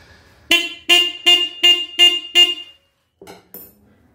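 The faulty horn on a Yamaha Super Ténéré 750 motorcycle gives six loud, evenly spaced short honks, then a pause and two weak, sputtering bleats as it cuts out.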